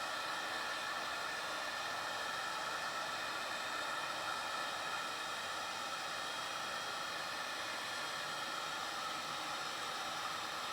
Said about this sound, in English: you're just taking a heat gun and heating up around the area